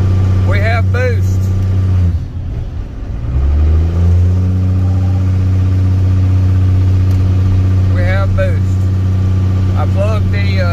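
A turbocharged vehicle on a cold-engine test drive climbs a hill under boost, its engine drone steady with a brief dip partway through, while someone talks over it throughout.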